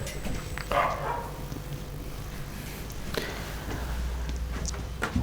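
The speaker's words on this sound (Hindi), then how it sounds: "वापिस कुत्ते भौंक रहे थे" Dogs bark outdoors at a distance, a few scattered sharp yelps and barks over a steady low background hum, with no talking.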